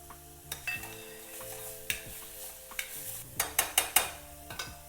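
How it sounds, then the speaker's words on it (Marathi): Crushed ginger and garlic hit hot oil in a home kitchen while preparing a spicy vegetable dish, giving a soft steady sizzle broken by sharp metallic clinks and scrapes of a spoon stirring against the pan, several in a quick cluster near the end. "आता आलं लसून ठेचून घेतलेलं टाकून घेते"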